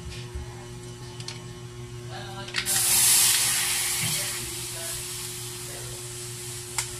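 Sugared food coloring goes into a hot frying pan: a quiet stretch, then a sudden loud hissing sizzle that swells and slowly settles into a steady simmer.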